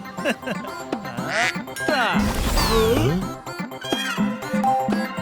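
A cartoon duck quacks several times in quick succession, loud and close, with voices talking around it and a brief jingling in the middle.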